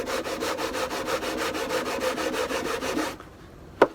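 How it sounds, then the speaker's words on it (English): Thin 1/16-inch balsa wood rubbed quickly back and forth on a rough sanding belt, a rapid, even series of close scratchy strokes for about three seconds, then it stops, followed by a single sharp tap. "I'm going to use a sanding bar, a sanding belt here. First really rough to get it going,"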